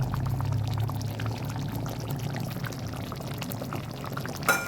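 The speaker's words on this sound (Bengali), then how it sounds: "দিয়ে দিচ্ছি কিছুটা তেল" Raw mustard oil pours into a pan while katla fish curry with sesame cooks, a continuous low gurgling pour with a faint hiss, close, ending in a small clink.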